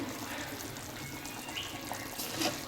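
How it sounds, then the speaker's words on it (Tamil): Okra tamarind curry bubbling in a pot, a soft continuous simmering wash with a few faint pops, quiet and steady with no voices. "இப்போ நம்ம குழம்பு நல்லா கொதிச்சிட்ருக்கு."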